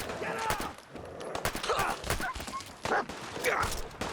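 Gunfire in Fallout 4, rapid repeated shots with sharp bursts and a heavy kick, coming in clusters over a few seconds with a voice talking over them.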